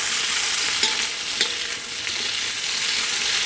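Baby potatoes stir-fry in oil in a kadai, giving a dense, bright sizzle that runs throughout, broken by a couple of brief scraping stirs, close up and with no talking.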